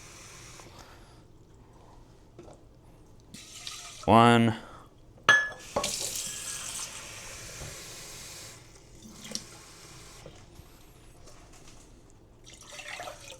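Water pours into a cooking pot for boiling rice in a home kitchen, with a brief clatter of cookware and a voice talking over it.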